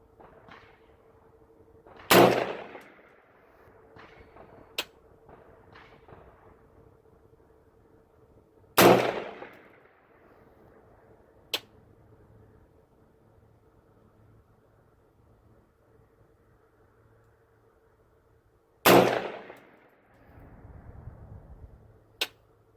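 Rifle shots at an outdoor shooting range, three sharp cracks spaced several seconds apart, loud and close with faint background noise between them.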